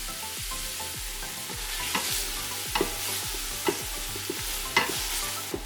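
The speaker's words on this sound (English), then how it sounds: "Try to brown up the white onions." White onions and minced garlic sautéing in an Instant Pot, a steady sizzle under repeated scraping strokes of a spoon against the inner pot, with a few sharper clinks along the way.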